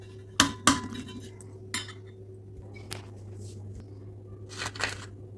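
A spoon clinks and scrapes against a bowl while mixing amrakhand ingredients, with a few sharp metallic taps near the start and softer stirring sounds afterward over a steady background hum.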